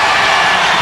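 Basketball arena crowd at an Alabama–Auburn college game roaring after a slam dunk, a loud, dense wall of cheering that stays steady and close for the whole brief moment.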